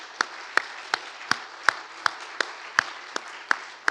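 A congregation at a church anniversary thanksgiving service and elder ordination claps together in slow, evenly spaced beats, about ten sharp claps over a few seconds, moderately close, with no talk.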